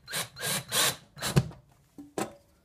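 A power drill drives screws to mount a Blossom smart sprinkler controller, sounding as several short, close whirring bursts with gaps between, followed by a couple of sharp knocks.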